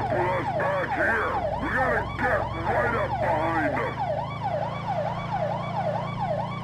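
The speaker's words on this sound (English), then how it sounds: "The sirens in slow motion are horrible." Police sirens from the video game GTA 5, slowed down into a low, warbling wail that sweeps up and down in a steady cycle, loud and continuous, with overlapping tones early on that thin to a single siren.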